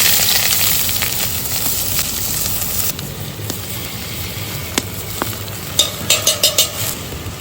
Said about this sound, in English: I'm going to throw in some onions and garlic to start with